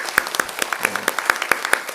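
A church congregation claps in a quick, steady rhythm, sharp distinct claps close together for two seconds, with faint voices underneath.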